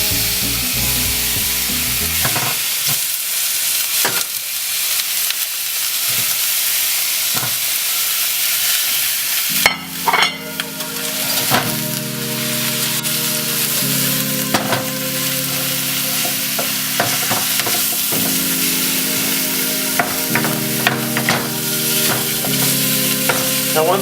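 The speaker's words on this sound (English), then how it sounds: "I'm going to go ahead and brown the ground beef." Ground beef browns in olive oil in a pan with a loud, constant sizzle. Repeated scraping and stirring clatters break it up, and a low steady hum runs underneath.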